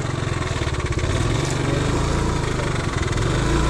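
A vehicle engine with a fault, inspected after a tensioner replacement and tune-up, runs with a steady, rapid rhythmic chugging, loud and close, with faint hints of voices in the background.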